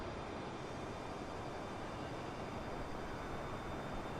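A320neo airliner in flight over Dubai in Microsoft Flight Simulator on Xbox Series X, giving a steady, dense broadband engine and air roar that holds at an even level throughout with no voices.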